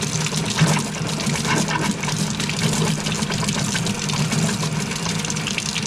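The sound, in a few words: water running from faucet after whole house filter replacement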